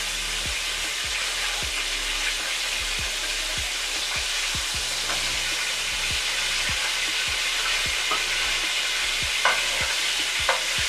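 Scallops frying in hot oil: a steady soft sizzle with repeated sharp crackles and stirring clicks, close and fairly quiet, no talking.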